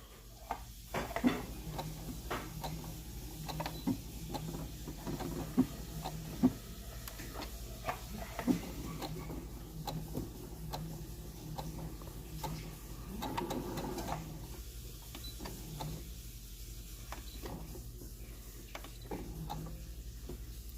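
An SE600 sewing machine stitches in short bursts at changing speeds, a quiet mechanical whir and tapping close by with scattered clicks between runs.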